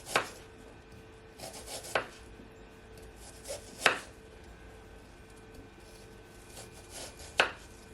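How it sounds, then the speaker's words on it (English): Half an onion being finely chopped with a knife on a board, four sharp, spaced knife strikes over a faint background hiss, close and distinct. "I'm also gonna add half of onion that I'm just gonna finely chop"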